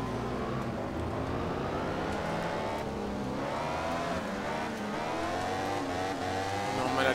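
A MotoGP racing bike engine in the MotoGP 14 video game drones and revs continuously at high pitch, shifting tone as it accelerates, with a faint voice underneath.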